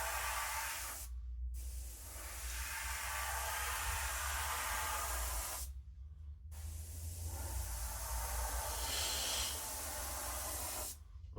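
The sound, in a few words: airbrush spraying paint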